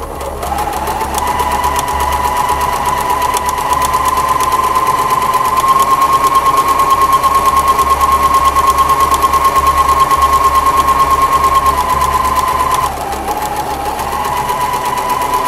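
A sewing machine runs steadily for about twelve seconds, stitching the side seams of a fabric Christmas stocking at a quarter-inch seam allowance, loud and close, then slows and stops near the end.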